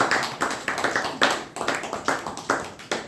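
Applause from a Toastmasters meeting audience at NITK honoring the Division Director, with steady overlapping claps and a few louder bursts throughout, no voices over it.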